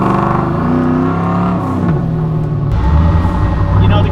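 An 800-horsepower 1957 Chevy engine runs loud and near, its throaty tone rising and falling as it revs and settles into a deeper rumble.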